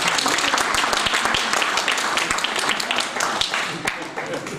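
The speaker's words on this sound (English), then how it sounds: "let us clap their hands for the Department of Human Settlement" An audience at a human settlements and housing regional conference applauds the Department of Human Settlement, a dense burst of clapping that stays loud throughout and eases slightly near the end.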